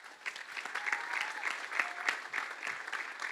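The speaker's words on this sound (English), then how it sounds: "So just a huge round of applause for our team." A live audience at a youth pitch competition grand final applauds steadily for the event team, a dense sustained patter of many hands at moderate loudness with no talking over it.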